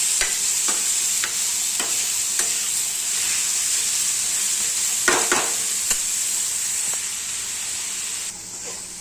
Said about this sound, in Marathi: टोमॅटो पण याच्यामध्ये आहे ना चांगलं भाजून घ्यायचं. चांगला फ्राय करून घ्यायचा टोमॅटो पण.